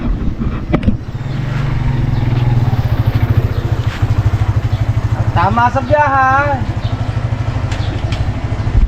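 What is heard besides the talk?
Someone's motorcycle engine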